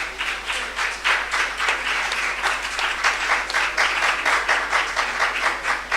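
Steady applause from a church congregation fills the space, a dense, continuous patter of many hands clapping with a slight rhythmic pulse, fairly loud and even throughout with no voices over it.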